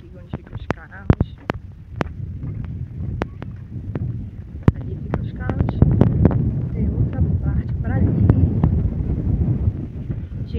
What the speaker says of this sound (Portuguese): tá um vento tão bom aqui